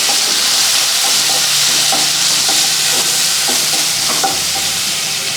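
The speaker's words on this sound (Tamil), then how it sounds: "இப்போ வெங்காயம் நல்லா வதங்கட்டும்" Onions, curry leaves and garlic sautéing in a pan, a loud, continuous sizzle with soft rhythmic scrapes of stirring, heard up close with no one talking.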